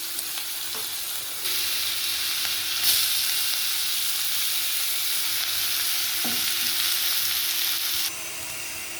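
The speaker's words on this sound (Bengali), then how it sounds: "মাছ ভাজার তেলে আরেকটু তেল দিয়ে 5 ফোড়ন দিয়ে পেঁয়াজ কুচি দিয়ে দিচ্ছি" Chopped onion fries in hot oil with five-spice seeds, left over from frying fish for a rohu fish curry, giving a steady close sizzle that swells louder after a moment, with occasional faint stirring clicks.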